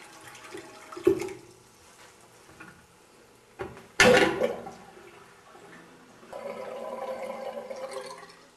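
Cold water from a household tap in Melendugno gushes steadily after being turned back on, preceded by a few short knocks and bumps from the fixture, with the running stream continuing through the final seconds.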